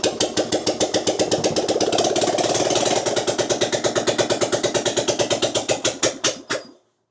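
A Steyr Puch engine, choked and primed with brake cleaner after years unused, catches and runs loud and close with a rapid rhythmic chug that slows into spaced beats before cutting out.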